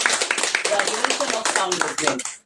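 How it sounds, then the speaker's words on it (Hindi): An audience claps along during a Hindi-language Christian teaching session, quick sharp claps in a brisk, irregular patter that cuts off abruptly, with a voice talking over them. "ताली बजा सकते हैं।"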